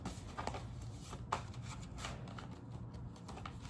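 Tarot cards being shuffled up close, with quick riffling flutters and soft papery slaps in a quiet room, no voices.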